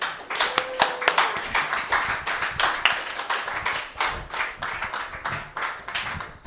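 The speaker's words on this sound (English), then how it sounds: "Can this guy get another round of applause?" Audience at a storytellers' night applauding a storyteller, a steady crowd of close, crisp hand claps lasting several seconds with little talk.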